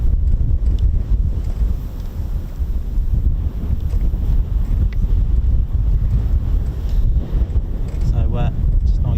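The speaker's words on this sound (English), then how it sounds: "The wind is quite strong for 25, so I can't see any runway changes today." Strong wind buffets the microphone in a continuous loud rumble beside the runway at RAF Coningsby during an evening flying show, with someone talking underneath throughout.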